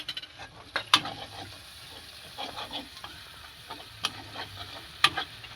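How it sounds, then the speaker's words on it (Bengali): Onion, green chilli and garlic paste frying in a pan, a soft steady sizzle punctuated by a few sharp clinks and scrapes of a stirring utensil, close and fairly quiet with no talking. "একটু ভাজা ভাজা করে নেব পেঁয়াজটা"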